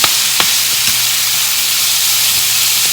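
Shredded food frying in a pan of extra virgin olive oil with seasoning, a steady loud sizzle and hiss with a couple of faint taps near the start, close up and without speech.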